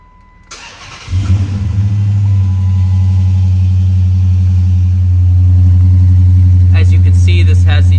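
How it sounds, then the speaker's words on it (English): A Chrysler 300 SRT8 with an SRT exhaust cranks and fires up, settling into a deep, steady, loud idle rumble, with a slight rise in level partway through and faint background sounds near the end. "Startup of the Chrysler 300 SRT8."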